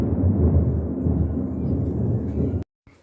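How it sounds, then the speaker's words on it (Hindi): Low, continuous thunder rumbling from heavy clouds over a village in hot weather, a broad steady roll lasting nearly three seconds before cutting off abruptly into silence. "अभी तो देख लीजिए इतने बादल गरज रहे हैं"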